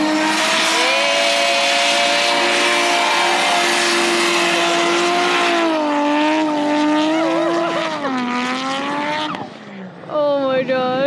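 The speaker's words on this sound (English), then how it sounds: "Oh, we got a burnout." A loud, sustained Nissan 350Z engine roar with high-pitched tyre screeching during a burnout, the revs rising and falling before a final sharp rev near the end.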